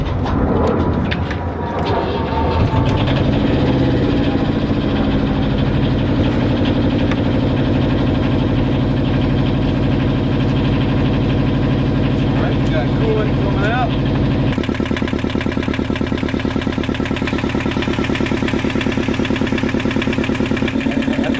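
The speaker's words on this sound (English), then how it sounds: "Run the engine, heat up the oil, so it's thin enough" Sailboat inboard engine idling in neutral, a loud, steady mechanical drone with constant vibration throughout, close by, with a slight change in tone partway through and no talk over it.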